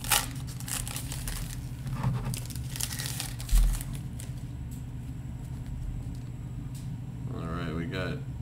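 A 1990 Fleer football card pack wrapper is crinkled and torn open, giving a few sharp rips and rustles up close over a low steady room hum, with a brief voice near the end.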